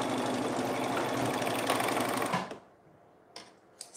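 A sewing machine stitches a hem on a women's tank top, running loud and steady for about two and a half seconds, then stopping, with only a couple of brief clicks and handling noises afterward.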